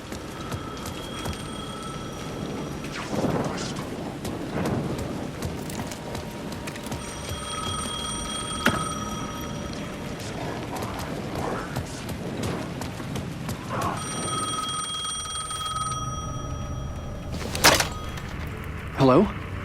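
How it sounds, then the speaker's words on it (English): A telephone rings in the PS5 horror game Alan Wake 2, sounding in three separate bursts of repeated bright ringing over a low, murky ambient background. "The phone was ringing again."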